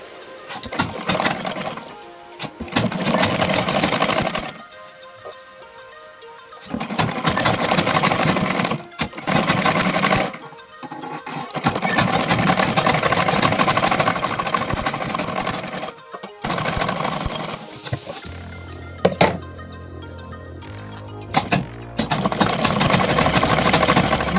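Sewing machine stitching the second sleeve of a kurta, running in several long motor bursts separated by short pauses, with brief handling sounds between runs.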